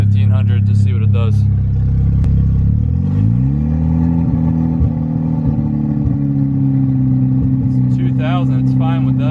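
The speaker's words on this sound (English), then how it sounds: "I'm just gonna bring the RPMs up to like 1500 to see what it does." An MK6 Golf R engine idles, then rises smoothly to a modest held rev of about 1500 RPM and stays there as a steady near hum, with someone talking briefly at the start and end.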